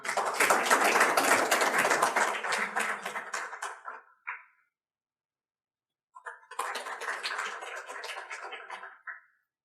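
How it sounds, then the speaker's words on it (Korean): Audience applause at a Daedeok Innopolis Forum welcoming institute director Yoon Seok-jin: a dense, loud burst of clapping that thins over about four seconds, a pause of silence, then a second sustained round of applause fading out. "그러면은 우리 윤석진 원장님을 박수로 맞이해 주시겠습니다."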